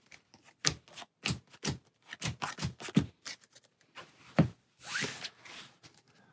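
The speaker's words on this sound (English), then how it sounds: "Final shuffle and 6 cards." A deck of Marvel Champions cards being shuffled by hand, heard close and quiet as a series of crisp riffling bursts and soft slaps, irregular and separated by short pauses.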